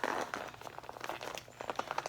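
Stiff plastic material crinkles and rustles in the hands while a bag is being sewn, quick irregular crackles close up and fairly quiet.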